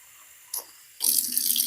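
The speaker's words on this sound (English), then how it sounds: "So I just add enough water that it's good and covered" Hot water poured over dog food in a bowl, a brief splash followed by a steady, close, hissing pour that runs to the end.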